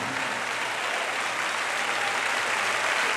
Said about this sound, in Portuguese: Vamos aplaudir a esta palavra.